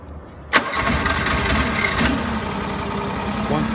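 An engine cranks and fires with a sharp onset, then settles into a steady, loud running idle that continues to the end.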